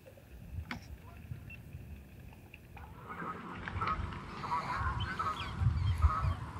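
Geese honking, a busy cluster of calls that builds from faint to fairly loud and stays continuous over outdoor background noise.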